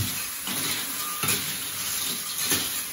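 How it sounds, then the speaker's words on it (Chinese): Clams (huajia) are stir-fried in a sizzling pan in a rural Hunan kitchen, with a constant hiss of frying punctuated by periodic scraping stirs of the spatula against the pan. "炒花甲嘞"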